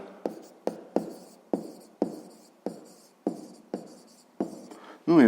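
A pen scratches across paper while a math exercise on the side and perimeter of a square is written out by hand: about eight sharp, evenly spaced strokes, close and fairly quiet, with a brief voice sound right at the end.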